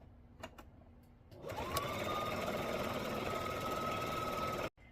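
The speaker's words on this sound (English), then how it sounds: "and then we're going to stitch this on. I always back stitch a couple times on the short side" A sewing machine stitches velcro onto a flat fabric piece for a ruler organizer. After a quiet start it whirs into a steady, continuous run for about three seconds, then stops abruptly.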